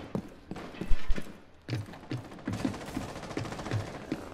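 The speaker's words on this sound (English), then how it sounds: "I'm just gonna shoot my gun then" Gunfire in Rainbow Six Siege: a loud burst of rapid shots, then a string of evenly spaced single shots, close and punchy, with no talking over them.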